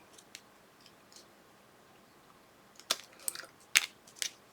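Scissors trimming paper leaf pieces for a papercraft folio: a few faint snips early, then four crisp, close cuts near the end over quiet room tone.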